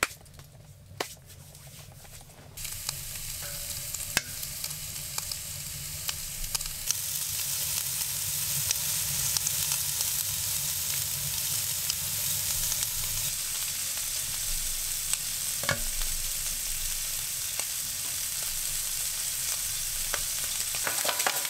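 Fatty meat frying on a Gstove inside a canvas tent during a winter snowstorm camp, a steady close sizzle and crackle that swells after a quieter start and runs on with scattered pops and clicks.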